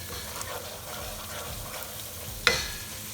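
Masala sizzling in a pan for chicken jalfrezi, a steady hiss of frying with soft stirring scrapes and one sharp clink of the spoon against the pan.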